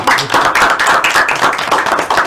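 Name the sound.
group clapping hands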